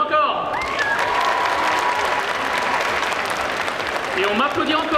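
Audience applause at a cosplay parade during a geek convention, a steady, dense wash of clapping from a crowd lasting throughout, with voices and faint cheers mixed in.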